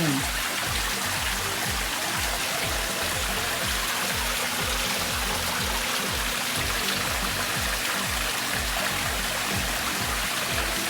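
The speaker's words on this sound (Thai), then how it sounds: "ตอนนี้ก็มีน้ำตก ให้องค์ปู่นะคะมีน้ำตกให้" Small waterfall of flowing water at a shrine, a steady close trickle and splash with a faint rhythmic pulse underneath and soft voices in the background.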